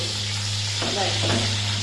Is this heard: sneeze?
no